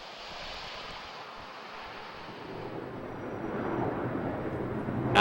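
A Boeing 737 approaching to land with one set of landing gear stuck retracted, its engine roar a broad steady rush that swells louder toward the end.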